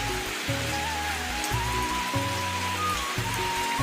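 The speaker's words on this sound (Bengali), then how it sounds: "দেখতে পাচ্ছেন কিরকম বৃষ্টি হইতেছে" Heavy rain falls steadily in Nagarpur, Tangail, a dense continuous hiss and patter on surfaces, with a low droning hum running underneath throughout.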